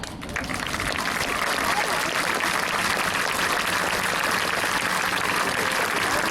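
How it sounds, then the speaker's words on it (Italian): A crowd at the Jesolo European Air Show applauds the Frecce Tricolori solo jet, a steady outdoor wash of clapping and crowd noise that holds evenly throughout. "Il solista si prende l'applauso"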